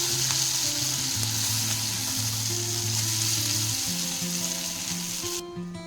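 Paneer shallow frying in a pan, a loud continuous crackling sizzle close up that carries on unbroken with no voices.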